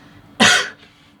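A single short, close cough from one person, sharp and breathy, lasting under half a second in an otherwise quiet room.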